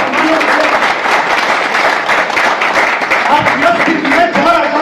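Loud, continuous clapping fills a business seminar hall, a crowd applauding steadily while a speaker's voice carries over the top.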